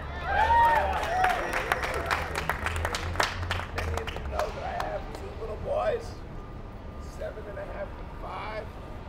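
A crowd at a rally breaks into applause and cheering, sharp scattered claps and shouts mixed with voices talking, moderately loud and fading slightly toward the end.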